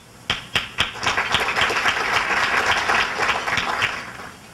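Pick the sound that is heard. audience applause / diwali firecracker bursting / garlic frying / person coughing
audience applause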